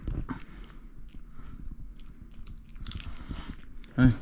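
A dog chews a treat up close, giving soft wet bites and crunching mastication in irregular bursts, with a sharper snap near the end.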